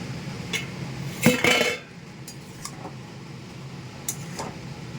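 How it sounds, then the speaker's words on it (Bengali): A metal lid comes off a pan of young cabbage cooking in its own water with a short burst of clanking and clinking, then a quiet room with a few faint taps afterward. "এবারে আমি ঢাকাটা খুলে নিচ্ছি"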